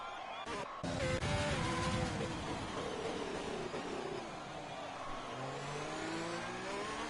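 An F1 race car engine screams through a lap in F1 2020 at the Canada circuit, with a high, steady whine that rises and falls through gear changes and a brief sharp knock near the start.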